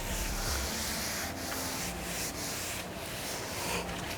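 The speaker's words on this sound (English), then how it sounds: "let's clean and degrease the headlights a bit" Continuous rubbing and wiping over a car headlight lens while cleaning and degreasing it, a steady close scrubbing hiss with slight strokes and no speech.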